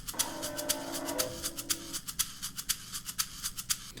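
A twangy, wavering tangle harp in a goblin-themed music collaboration sounds for about two seconds under a steady pattern of crisp shaker clicks, which then carry on alone.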